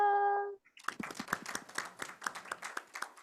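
A small audience claps for an organ player after a demonstration, a brief burst of scattered, close hand claps following a sustained chord, lasting a few seconds at moderate level.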